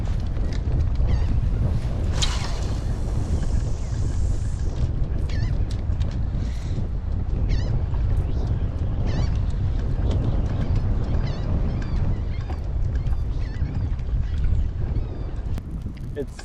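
Wind buffets a kayak out on open water, a constant loud rumbling roar across the microphone with small splashes and knocks from the boat underneath.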